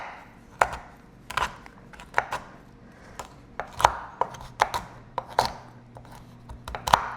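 Sharp knife chops through chocolate on a cutting board, a dozen or so quick irregular strikes in bursts, close and clear with a quiet room behind.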